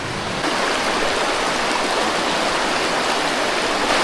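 Loud, continuous rushing of the hottest river in the world in Peru, a dense, steady flow of churning water with no voices.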